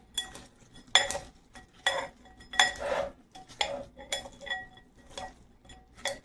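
Bhel puri being stirred with ketchup in a bowl, a spoon clinking and scraping against the dish in repeated irregular strokes, close and moderately loud, with no talking.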